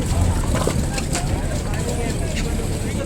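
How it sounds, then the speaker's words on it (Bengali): A speedboat heading out to Rose Island, with a broad, rumbling engine-and-water roar filling the space, wind buffeting and loud chatter from people on board layered over the noise. "আমরা এখন স্পিড বোটে উঠছি রোজ আইল্যান্ডে যাওয়ার জন্যে।"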